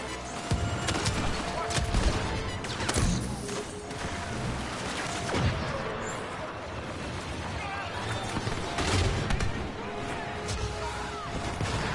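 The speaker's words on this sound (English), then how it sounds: "Grenade out!" A grenade explodes amid rolling gunfire and battle noise in the Star Wars Battlefront II video game, with repeated loud bursts and booms over a dense, continuous wash of combat sound.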